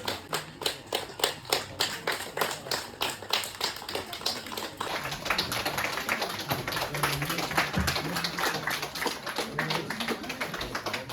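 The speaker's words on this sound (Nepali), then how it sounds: "ताली मार्नुहोस् तपाईँ सबैले।" Audience at a school farewell event clapping, first in rhythmic unison beats, then breaking into dense, continuous applause from many hands filling the room.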